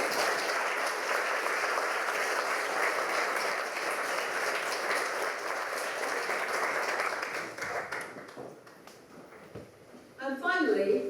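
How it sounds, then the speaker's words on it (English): An audience at a school prize night in Belfast applauds teachers and parents, a loud, steady wash of many hands clapping that thins and fades near the end before a brief burst returns. "Would you like to join me in a round of applause for your teachers and parents to say thank you to them?"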